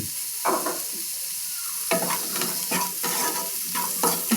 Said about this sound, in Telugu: ఇప్పుడు బాగా మిక్స్ చేసుకోండి మొత్తం.